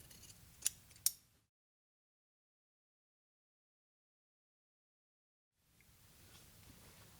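Scissors snip the folded fabric of a custom pants contour waistband: two sharp, close clicks in quick succession, then a long silence before faint room noise returns.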